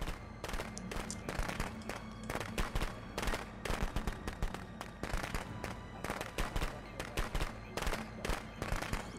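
A firecracker tossed in a Friday the 13th match sets off a long string of sharp, rapid pops and crackles, rhythmic and close, over a steady background roar.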